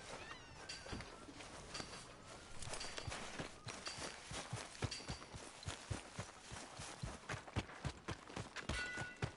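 Horse hooves walk at a steady clip-clop pace in a PS4 video game, the regular thuds fairly quiet but clear, with faint ambient game sound behind them.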